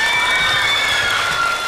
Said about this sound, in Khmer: ថ្ងៃនេះសម្លេងផ្ទះដៃនិងហូរកញ្ជ្រៀវពីបងប្អូ